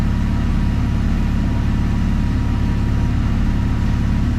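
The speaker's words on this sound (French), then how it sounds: "Le ralenti a l'air un petit peu plus élevé. Alors en même temps le moteur est froid." A cold 1990 Alfa Romeo Spider engine idles slightly fast, a little over 1000 rpm, inside a garage. It gives a steady, close, even rumble with no voices.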